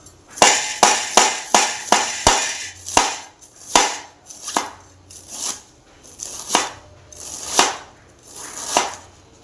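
A knife chops cabbage finely on a board: about fourteen sharp, close strokes, rapid at first, then slowing into a more spaced, uneven rhythm.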